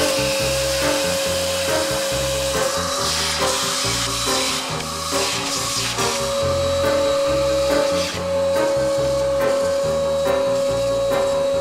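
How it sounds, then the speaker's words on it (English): A loud, steady vacuum motor drones throughout with a constant whine, overlaid by rhythmic clattering and rubbing as the nozzle works against surfaces inside a piano, cleaning out dust. "And this is where a vacuum comes in handy again."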